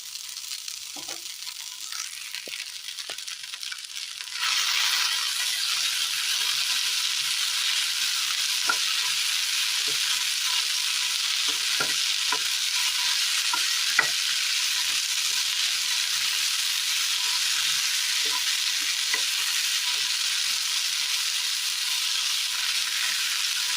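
Plantain, koorka and green tomato stir-fry cooking in a pan, a steady bright sizzle that swells up after a few quieter seconds, with scattered spoon scrapes and taps as it is mixed.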